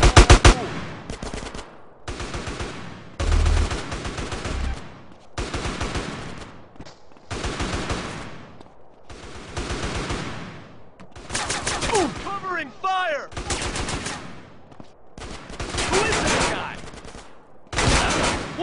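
Rapid bursts of gunfire from the video game GTA San Andreas in a civil war mission, loud volleys recurring throughout, with shouted commands and game voices among the shots.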